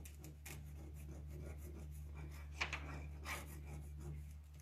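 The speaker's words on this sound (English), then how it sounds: "and I just rub it down a little bit more." A rub-on transfer gets pressed down onto a painted dresser in soft, repeated scraping rubs close by, faint over a low steady hum.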